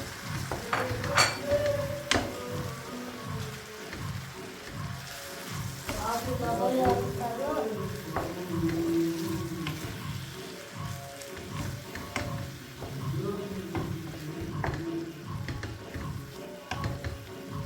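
Tomato paste sauce fries and sizzles in a pan for lasagna while a utensil stirs it, scraping and clinking. A steady hiss runs throughout under intermittent close-by talk.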